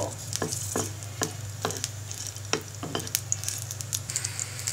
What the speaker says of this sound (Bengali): এবার কাঁচামরিচগুলো হালকা ভেজে নিব